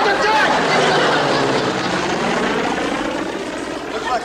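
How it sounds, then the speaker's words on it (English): A propeller plane from a cruiser drones loudly overhead, a dense, steady engine roar that slowly fades, with voices shouting beneath it. "Looks like a plane from the cruiser,"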